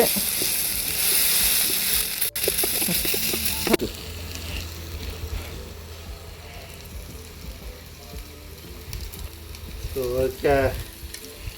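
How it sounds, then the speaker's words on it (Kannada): Chillies fry in mustard oil in a pan for onion chicken, a loud sizzling at first that settles into a softer steady crackle, with a few scraping stirs near the end. "ಫ್ರೈ ಮಾಡಬೇಕು ಅದನ್ನು"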